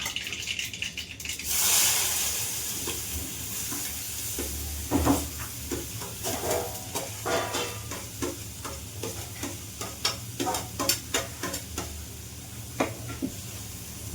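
Onion sizzling in a pan with mustard seeds and cumin, a steady frying hiss broken by scattered pops and the scrape of stirring, close and moderately loud with no talking.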